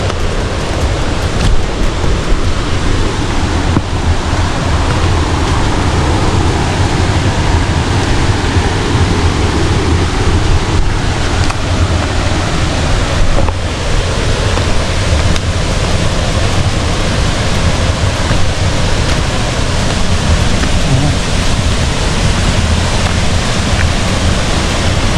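Hulugan Falls waterfall roars as a steady, broadband rush of falling water that stays constant and fairly loud throughout, with no voices.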